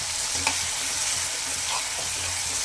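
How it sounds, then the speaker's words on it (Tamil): Steady, dense frying sizzle from a pan of mango pickle with salt, with faint stirring scrapes now and then, continuous and fairly loud throughout. "உப்பை போட்டு நல்லா வதக்கணும்."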